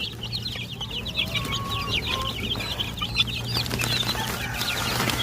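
Chicks on a poultry farm eating feed, with constant high peeping and cheeping from many birds, a low steady hum beneath, and occasional soft scratching and flutter, fairly close.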